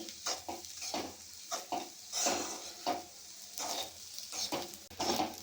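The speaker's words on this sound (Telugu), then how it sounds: "అన్నాన్ని అయితే ఈవెన్గా వేయించుకోవాలి" Cooked rice coated in mint paste being stirred and fried in a pan: a steady sizzle under repeated scraping strokes of a spatula against the metal, close and fairly loud, with no talking.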